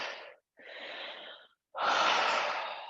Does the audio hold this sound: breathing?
yes